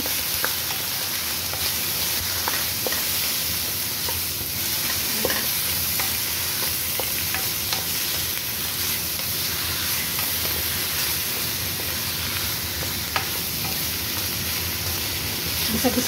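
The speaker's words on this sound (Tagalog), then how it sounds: "Gisa-gisa natin kasi mas masarap ang ginigisa." Fish sautéing in a pan with a Filipino gisa of aromatics, a constant close frying sizzle with occasional small pops, continuing alone for the whole stretch.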